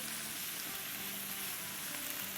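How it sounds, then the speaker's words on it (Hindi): Chicken sautés in a pan with onion, garlic, ginger and green chilies, making a continuous close sizzle with faint stirring underneath. "बस हमें जब तक सॉटे करना है जब तक कि चिकन का कलर चेंज ना हो जाए"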